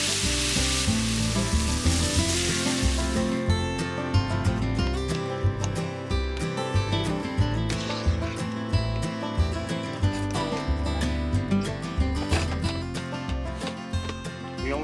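Loud, constant sizzling as steak and vegetables fry in a pan, with crackles and popping throughout, close up and without speech.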